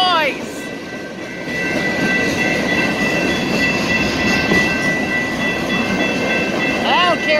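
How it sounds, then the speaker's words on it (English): A freight train of boxcars and carrier cars rumbles steadily past on the rails, loud and close, with metallic wheel squeals rising over the continuous roll of the cars. "Comes a boxcar and a carrier car. God, I love the rumble."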